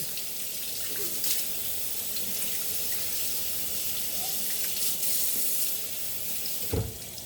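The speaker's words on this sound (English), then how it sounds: "I'm going to wash these string beans" Kitchen tap water runs continuously into a sink while string beans are rinsed for a pork vegetable stew, a steady close splashing hiss with a brief clatter near the end.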